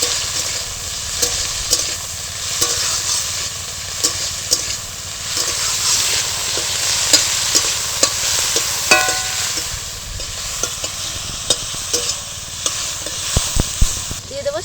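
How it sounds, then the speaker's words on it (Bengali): Chopped tomato with coriander leaves stir-fried in a pan, a loud continuous sizzle punctuated by frequent spatula scrapes and taps against the metal. "তোমরা এটাকে নাড়াচাড়া করে একটু ভেজে নেবো"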